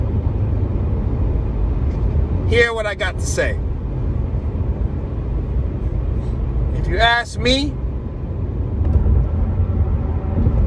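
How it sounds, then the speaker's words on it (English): Traffic on a road, with cars passing by as a steady broadband rumble under someone talking closely throughout. "The cars are passing by,"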